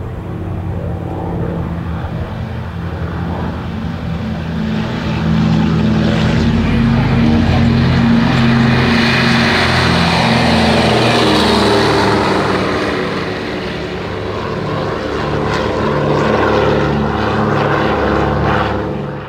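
Douglas DC-3 propeller airliners in RNZAF wartime livery fly overhead, a loud droning, throbbing engine roar that swells as the planes pass close and then eases slightly, with no voices.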